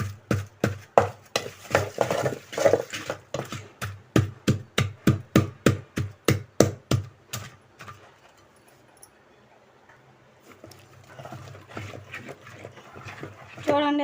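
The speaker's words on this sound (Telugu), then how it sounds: "ఇందాకే పెట్టుకున్న టమాటాలు ఇలా ఎనుపుకుందామండి." Cooked tomatoes being mashed for gongura chutney give a steady run of about twenty loud, evenly spaced thuds, then the pounding stops and only quieter, scattered sounds remain.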